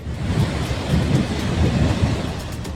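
Heavy rain pours down steadily with rolling thunder during record-breaking monsoon rainfall in the Bundelkhand region of Uttar Pradesh, India. The dense downpour hiss stays loud and continuous throughout, with no voices.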